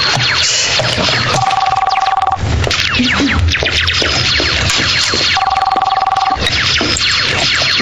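Telephone ringing in a Spanish-language television drama, two bursts of electronic trilling ring separated by a few seconds, heard beneath loud, continuous background music and sound.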